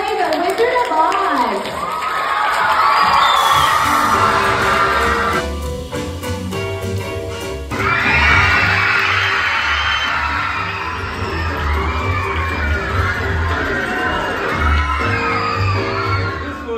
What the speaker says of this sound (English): Let's give a really big round of applause to the Rotary Club.